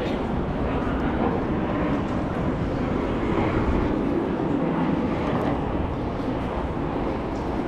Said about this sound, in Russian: Самолеты летают сверху. На посадку он пошел.